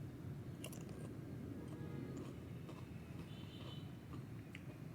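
Crunchy prawn crackers being chewed close up, with rapid brittle crunches and bites over a dense, noisy background.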